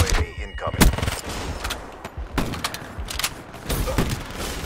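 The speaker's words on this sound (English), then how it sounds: "It's a very, very fast machine gun." Very fast automatic machine gun fire in Black Ops 3, with dense rapid bursts of gunshots, loud and close, spread across the clip with short pauses between strings of shots, under occasional talk.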